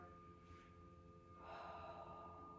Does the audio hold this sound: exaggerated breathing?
yes